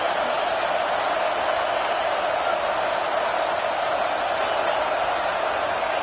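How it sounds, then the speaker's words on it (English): A fired-up football stadium crowd produces a dense, unbroken roar that stays at a steady level throughout, with no single voice or cheer standing out from the mass of noise. "It's early, but this crowd is fired up. Listen to this noise here."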